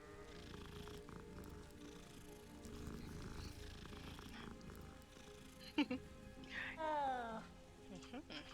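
A cat in Hogwarts Legacy purrs softly in a low, steady rumble that stays faint under background ambience, followed near the end by a brief higher meow-like call.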